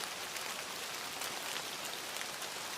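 Heavy rain pours steadily on a cold, stormy night along a lonely road, a dense, even hiss that stays constant and fairly loud throughout with no voices.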